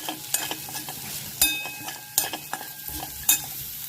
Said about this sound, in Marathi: यातच आपले तीळ ॲड करू, छान याला फ्राय करून घेऊया।